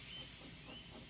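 Steady broadband hiss of steam venting from a steam locomotive, soft and continuous, with faint higher whistling tones drifting in and out.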